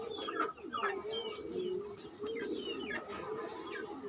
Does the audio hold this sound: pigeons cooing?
yes